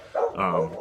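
A dog barks indoors in a single short, fairly loud bark with a whimpering, voiced tail, close to the recording spot during a home talk session.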